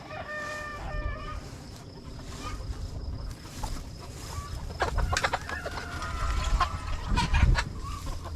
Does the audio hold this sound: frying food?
no